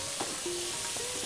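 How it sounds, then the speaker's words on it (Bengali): Bottle gourd fries in a pan with five-spice and dried chilli, giving a soft, steady sizzle with faint stirring scrapes, close and quiet, with no talk. "এবার এটাকে ভালো করে কষাতে হবে।"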